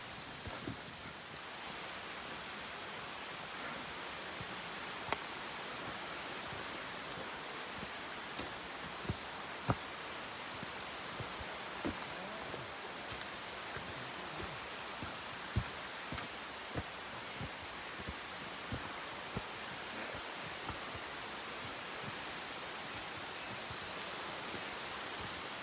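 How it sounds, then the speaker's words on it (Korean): A mountain valley stream and waterfall on Jirisan roar steadily and loudly, a dense continuous rush of water with faint clicks and rustles on top and no talking. "계곡 소리 들리십니까?"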